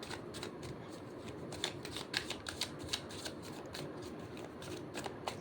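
Tarot cards being shuffled by hand, a quiet run of soft riffling flutters and light slaps repeating at a close, intimate distance.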